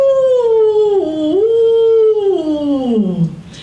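A voice imitates a wolf howl in the woods, one long sustained wavering howl that rises, dips and slides down at the end, loud and close.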